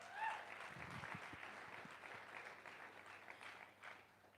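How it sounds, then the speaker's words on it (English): Faint scattered audience clapping in a room at a city council candidate forum, soft and diffuse throughout. "You don't have to clap for me."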